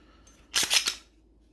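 A PSA Dagger pistol gives a short mechanical clatter of a few quick sharp clicks as its trigger is dry-fired, close and alone.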